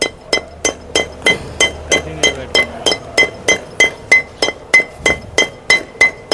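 A hammer strikes a gearbox part from a Maruti Suzuki Ertiga, producing a steady run of about twenty sharp, ringing metallic blows at an even, brisk rhythm, loud and close.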